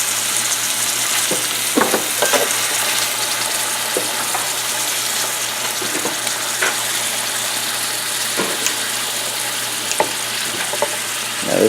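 Deer heart sizzles steadily in a skillet alongside vegetables, a constant hiss of frying punctuated by occasional clinks and scrapes of stirring.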